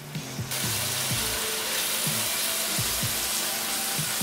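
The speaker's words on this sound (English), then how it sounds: "all this rendered fat and jus from the chicken to cook these onions" Onions sizzling in a pan of rendered chicken fat and jus, a steady close hiss of frying with a few faint clinks and scrapes.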